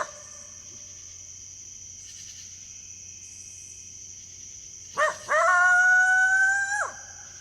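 A coyote in an urban park area gives a rising, wavering howl of about two seconds, loud and fairly close, over a steady background hum with faint insect chirping.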